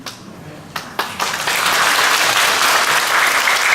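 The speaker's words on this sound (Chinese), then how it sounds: "这样的一个掌声" A church congregation breaks into applause during a Sunday sermon, a few scattered claps quickly swelling into loud, sustained clapping across the room.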